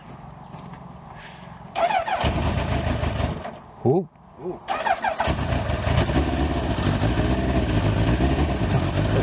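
Kawasaki Ninja GPZ900R motorcycle cranks with a short starter whir, catches after a brief stumble and a second try, then settles into a steady, loud idle close up, with a man briefly exclaiming.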